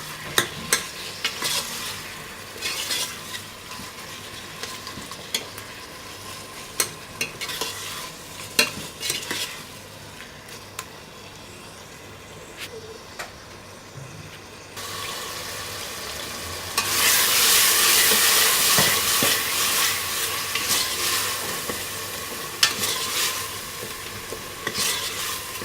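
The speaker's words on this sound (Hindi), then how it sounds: "अब इसमें ये कीमा डालेंगे। इसको अच्छी तरह भून लेंगे।" Minced meat frying and being stirred in a pan for daal keema, a steady sizzle with scraping stir strokes throughout that swells into a louder, denser hiss in the latter part.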